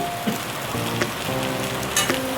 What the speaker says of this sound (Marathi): वांगा आणि बटाटा आपण जो शॅलो फ्राय केला आहे तो कढईमध्ये टाकून घ्यायचा.